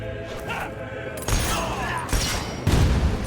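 Gunfire erupts in the Fable 3 video game during a fight where a king shoots back, coming as a few loud, heavy blasts and thuds with a crackling burst at the end.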